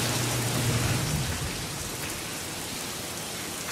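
Heavy spring rainstorm in Oklahoma, a dense steady roar of rain pouring down and drumming on surfaces nearby, with a low rumble fading early and the downpour continuing alone.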